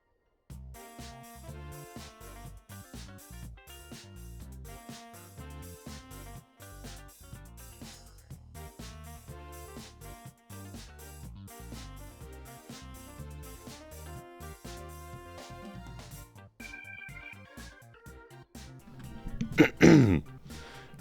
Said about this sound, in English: I gotta blow my nose